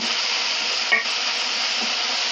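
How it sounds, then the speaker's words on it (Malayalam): Crab roast sautéing in a pan, a continuous close sizzle with a ladle stirring through it and one sharp scrape near the one-second mark. "ഇത് നന്നായി വഴറ്റി കൊടുക്കാം"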